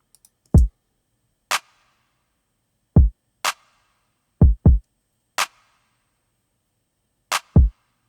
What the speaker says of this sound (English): I added a snap, so that one there, on every other clap